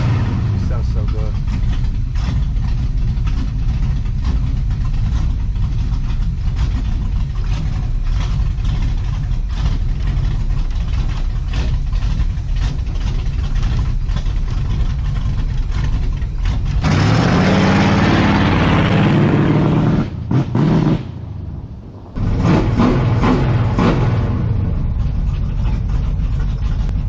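A 1970 GMC truck engine with a poorly tuned old carburetor rumbles loudly at idle, then revs hard for a few seconds, sputters briefly and settles back into a rough idle.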